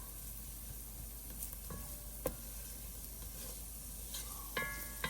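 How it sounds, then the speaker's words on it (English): Fresh minced garlic sautés with thyme in a pan for spaghetti and meatball sauce, a faint steady sizzle broken by a few sharp utensil clicks and scrapes of stirring. "I'm gonna add the minced garlic, that's fresh garlic, and saute that for a few minutes"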